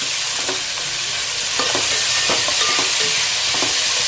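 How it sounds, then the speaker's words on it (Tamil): Onions and tomatoes sauté in a pan with a little salt, giving a steady soft sizzle broken by scraping spoon strokes at irregular intervals, close and alone with no talking. "நல்லா வதக்கிக்கணும்."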